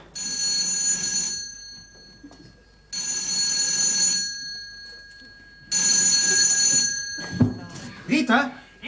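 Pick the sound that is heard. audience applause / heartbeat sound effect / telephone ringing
telephone ringing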